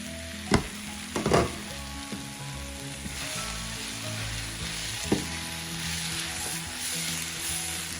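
Onions fry in a covered pan, giving a continuous soft sizzle with a few sharp clicks and a knock of the lid or utensil near the start and again about midway.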